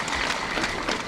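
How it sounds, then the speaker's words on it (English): A crowd applauds its national chairman at an APC youth conference, a brief burst of continuous, even clapping at moderate loudness. "Please, another round of applause for our national chairman."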